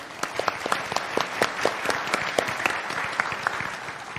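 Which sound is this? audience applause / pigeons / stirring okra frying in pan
audience applause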